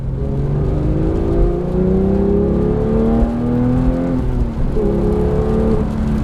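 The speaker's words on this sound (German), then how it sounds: "wenn wir jetzt hier im dritten Gang beschleunigen, fahren außerorts 2000 Umdrehungen, da geht so langsam die Klappe vom Auspuff auf" A 2017 Porsche 911 GT3 (991.2, six-speed manual) engine revs up steadily under acceleration in third gear, exhaust flap opening, its pitch climbing through the run with a brief dip near the end, loud and close throughout.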